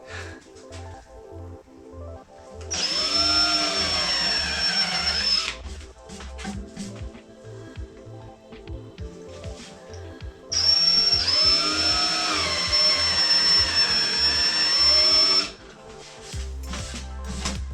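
A power drill with a large drill bit whines loudly in two long bursts, about three and five seconds each, boring holes in an electric mountainboard battery box, with quieter handling noises and pauses between.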